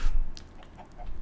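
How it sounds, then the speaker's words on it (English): Video-game chickens cluck in short, scattered calls over a low background hum, close and moderately loud. "As you can hear, the chickens are busy"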